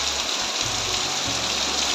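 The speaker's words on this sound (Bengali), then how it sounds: "দেখো বন্ধুরা, প্রচুর বৃষ্টি হচ্ছে," Heavy rain pours down in a steady, dense hiss with no break, close and loud, and a low rumble of wind sounds beneath it.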